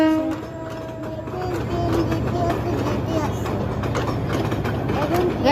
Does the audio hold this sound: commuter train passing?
yes